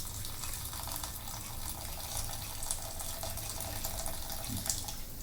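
Vegetable stock poured from a cooking pot into a bowl, a steady close splashing stream of liquid that runs continuously without pause and with no talking.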